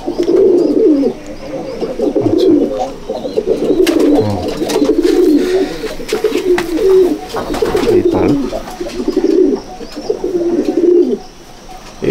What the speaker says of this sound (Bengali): এই হচ্ছে আমার পায়রা, দেখে নিন